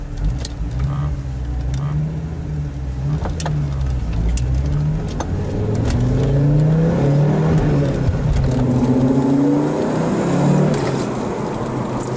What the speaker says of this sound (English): today we're driving the Audi UR Quattro